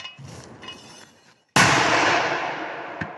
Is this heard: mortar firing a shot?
yes